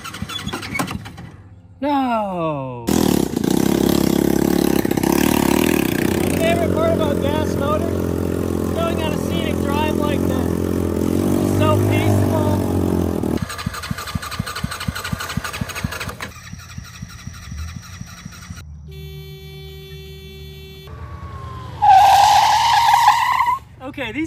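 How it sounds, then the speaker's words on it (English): A mini Jeep runs on its gas motor with a buzzing small engine, tire squeals and skids, revving surges and pauses, and a voice shouting briefly over the noise. "Our first step is evaluating its performance with the gas motor in it."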